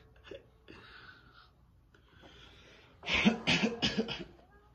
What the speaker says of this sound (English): I don't want to cough too hard.